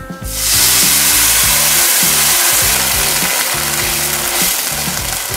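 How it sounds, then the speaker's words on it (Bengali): Water poured into lentils frying in a hot pan sets off a sudden loud hiss that stays intense and steady, with a rhythmic low rubbing noise underneath. "এবার এর মধ্যে অ্যাড করে দেব জল"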